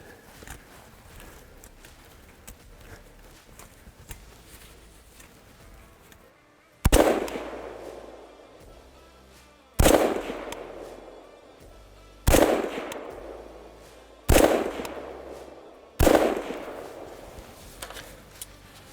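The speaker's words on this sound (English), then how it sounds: "I'm going to shoot at the pelvic girdle here from, this is actually exactly 100 yards" A Faxon Sentry rifle fires five sharp, loud shots at a steel target 100 yards away. Each crack is spaced two to three seconds apart and rings out briefly, after a quiet outdoor stretch with no talking.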